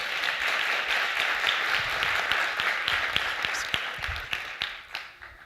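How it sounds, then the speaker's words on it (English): Audience applause during an inspirational talk, a dense wash of clapping that holds steady and then thins into scattered individual claps as it dies away. "For the right amount of applause, I will show you my Superman socks that has a cape."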